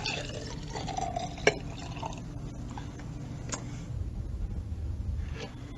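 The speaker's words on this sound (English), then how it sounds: "Now we're going to pour this juice into this glass." Juice is poured into a glass during a classroom demonstration, giving a soft continuous liquid trickle with faint drips and a couple of small clinks, quiet and close.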